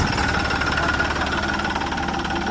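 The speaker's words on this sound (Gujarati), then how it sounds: "આ તો ચાલુ કરતા ખુરખુર અવાજ આવે હો" A tractor engine runs steadily with a rough, rattling knock throughout, loud and close, with no other sounds breaking through.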